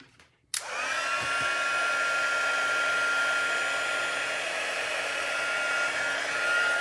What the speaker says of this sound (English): Let's grab my heat gun.